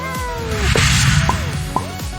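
A kitten gives several short, close meows, the last one fading into a brief second cry, heard clearly over a faint background hiss.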